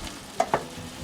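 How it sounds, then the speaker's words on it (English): Shrimp cooking in a pan, a quiet steady sizzle with two brief clicks from stirring. "It takes about 10 minutes for shrimps to cook."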